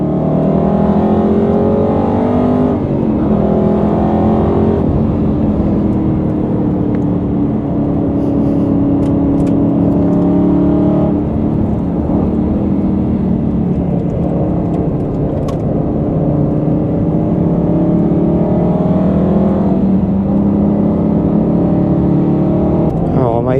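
An Aston Martin Vantage V8 sports car engine roars steadily at high revs on the Brands Hatch track, loud and close, with slight rises and falls in pitch throughout.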